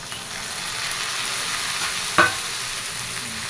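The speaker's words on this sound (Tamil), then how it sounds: "இப்போது சின்ன தக்காளி ஒரு 2 கட் பண்ணி வச்சுருக்கேன், அது மிக்ஸ் பண்ணிக்கலாம்." Chopped small tomatoes stirred into onions frying brown in a pan, giving a steady sizzle with a single sharp scrape of the spoon near the middle, close and alone.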